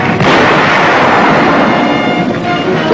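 Wartime battlefield gunfire and artillery from 1945 near San Pietro, a loud, dense, continuous roar of firing and rumbling that fills the whole stretch with no clear gaps.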